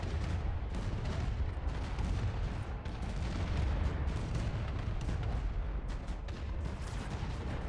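Continuous rumbling barrage of turret fire and explosions in the AI War 2 space strategy game, dense and steady with no pauses, loud and heavy in the low end.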